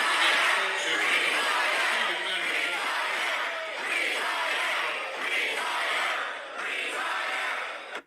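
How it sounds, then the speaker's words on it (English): A large political crowd in Kentucky yells and shouts continuously at a speaker, a loud, sustained roar of voices with surging swells and no clear single voice emerging. "He's trying to speak, but the whole crowd is yelling at him."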